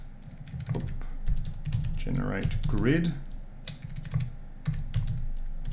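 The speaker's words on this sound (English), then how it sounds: "I've got a new keyboard, so I'm still getting used to the spacing." Clattering typing on a new computer keyboard, with quick bursts of close key clicks while someone speaks briefly over the typing.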